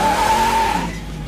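Loud, sustained tire squeal from a 1967 Camaro nicknamed the Crusher doing a burnout, one steady high whine that fades away after about a second with engine rumble beneath.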